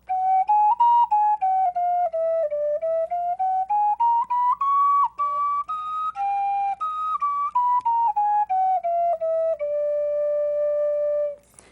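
A toy wind instrument played as a simple stepwise tune of clear, whistle-like sustained notes, close and alone, with short breaks between notes before a final held tone.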